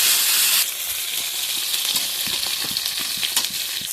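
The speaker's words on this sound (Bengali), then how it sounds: "মশলাটা একটু ভেজে নেওয়ার পর টমেটোটা দেবো" Spice paste of ginger, green chilli, sugar and cumin-coriander powder sizzles loudly in a pan, a bright steady hiss that eases slightly after the first moment, with soft scraping stir clicks throughout.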